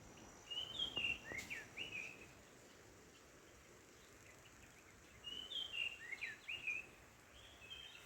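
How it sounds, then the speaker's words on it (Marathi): Birds call in a quiet forest, two bursts of bright chirping trills separated by a pause, moderately distant over faint ambient hiss. "फक्त पक्ष्यांचा आवाज आता हा"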